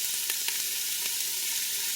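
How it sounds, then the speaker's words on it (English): Diced onion sizzling in a pot of oil, the start of a chicken and broccoli soup with extra vegetables, a steady close hiss with a few faint crackles and light stirring taps. "Nice sizzle."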